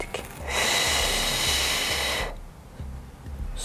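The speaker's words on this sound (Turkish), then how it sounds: "Ve nefes verdik." A long, deep exhale during a pregnancy yoga session at week 25, a breathy rush lasting nearly two seconds, close to the microphone, with a soft ambient hum before and after.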